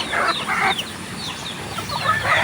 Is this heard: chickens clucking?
yes